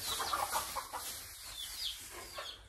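A hen clucking nearby in a backyard where eggs are laid, giving a series of short, soft clucks over faint background noise.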